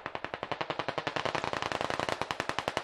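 A rapid automatic burst of gunfire in the video game Squad Ops, fired at a tank, sounds as a loud, close, evenly spaced stream of dozens of sharp shots that runs without a break for about three seconds.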